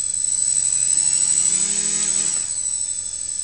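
Motors of an Arduino MultiWii quadcopter tethered on a wire spin up as throttle rises, a close, loud whirring whine with a rising pitched hum that swells and then eases slightly, no voices.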